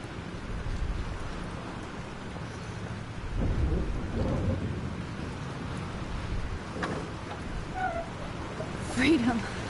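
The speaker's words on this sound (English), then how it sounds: "This storm is real." Thunderstorm with steady rain in the video game Life is Strange, a continuous wash of rainfall with low rumbling thunder swelling midway and again near the end, while a voice speaks briefly over it.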